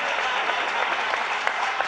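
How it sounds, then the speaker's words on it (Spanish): Steady, dense applause from a crowd, continuous clapping at even loudness throughout with no pauses. "¡Aplausos!"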